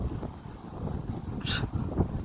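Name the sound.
strong wind blowing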